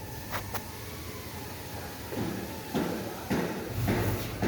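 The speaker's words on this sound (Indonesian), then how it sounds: "Akses keluar masuk untuk kabin belakang ini dia menggunakan pintu sliding door." Sliding rear door of a 2023 Toyota Hiace Premio 2.8 diesel van rolls and thuds shut, several short mechanical slides and clunks over a low steady background, fairly close.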